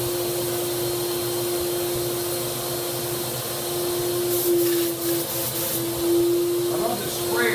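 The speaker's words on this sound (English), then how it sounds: "And then let me fire up the turbine." An HVLP turbine paint sprayer runs with a loud, steady whirring drone and a sustained tonal whine, close and continuous throughout, with slight shifts near the end as it is handled.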